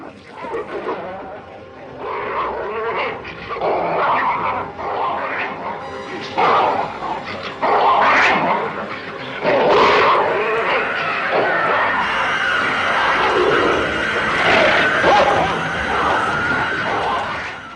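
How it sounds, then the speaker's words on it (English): Snarling, growling dog sounds rise and fall continuously, harsh and layered, with bursts of yipping and animal cries mixed in. "dogs growling and pigs squealing"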